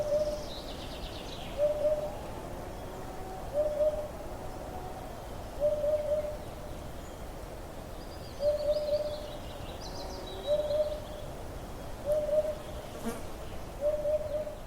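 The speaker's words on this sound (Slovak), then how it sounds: "Tak ako je to s dudkom na Slovensku, Samuel?" Eurasian hoopoe calling in Slovakia, a soft repeated hoot phrase at regular intervals of about two seconds over insect buzz and faint background birds, moderately distant.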